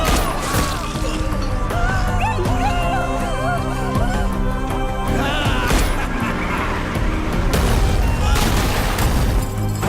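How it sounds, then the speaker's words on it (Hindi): A dramatic action scene from a Hindi-dubbed film, with loud music, crashing impacts and a burst of gunfire-like bangs packed into a dense, continuous mix. "एक ही तो गोली चली है"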